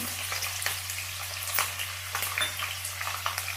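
Chillies, green beans and carrots fry in a hot pan for Karnataka-style upma, a steady close sizzle broken by scraping stirs, with a low electrical hum underneath.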